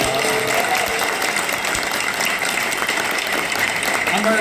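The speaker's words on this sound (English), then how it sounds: "give yourselves a huge hand of applause" Dense crowd applause and cheering fill a comic convention panel room, continuous and loud, with voices mixed into the noise.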